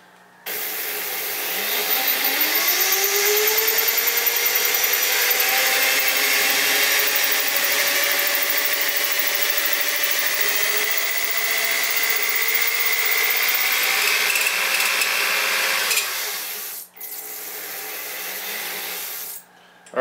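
A Lee case trimmer, run by a power tool, cuts a brass cartridge case with a sustained whirring, rasping grind up close. It starts with a rising whine, holds steadily, then cuts out abruptly near the end.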